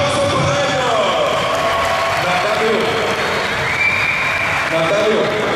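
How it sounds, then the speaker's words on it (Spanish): Audience applause at the opening ceremony of an international volleyball cup, a steady wash of clapping and crowd noise with a voice talking over it throughout. "Un aplauso para ellos"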